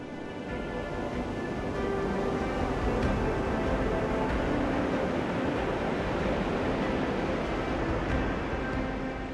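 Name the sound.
strong ocean waves crashing onto the beach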